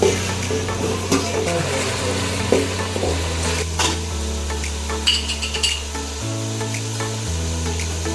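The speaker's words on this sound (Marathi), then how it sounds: "थोडा बारीक चिरलेला कांदा ब्राऊन करून घेऊया। अद्रक लसूण पेस्ट आणि बारीक चिरलेली मिरची, टोमॅटो टाकून घेऊया।" Chopped onion, ginger-garlic paste, chilli and tomato fry in a pan for a vegetable biryani, with a continuous loud sizzle, scraping of a spoon and clinks of metal utensils over a steady low hum.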